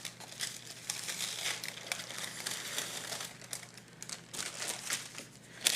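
A top sheet of paper is pulled away from a pressed cereal bar mixture in a pan, giving close, irregular crinkling and crackling for several seconds with no speech.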